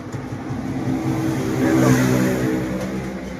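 A Toyota Previa van's engine runs close by, a steady mid-pitched hum that swells slightly in the middle as if revved, with no talking.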